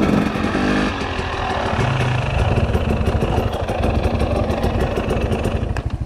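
Two-stroke dirt bike on a wooded trail, engine burbling and buzzing steadily at moderate throttle with uneven rough pulsing, close and loud throughout with no speech.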